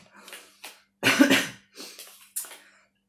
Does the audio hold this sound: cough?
yes